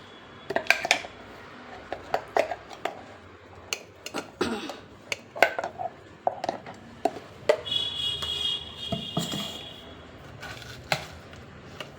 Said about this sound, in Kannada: ರುಬ್ಬಿರೋ ಮಸಾಲೆ ಎಲ್ಲ ಇದಕ್ಕೆ ಹಾಕ್ಕೊಂಡು ಚೆನ್ನಾಗಿ ಮಿಕ್ಸ್ ಮಾಡ್ಕೊಳ್ಳೋಣ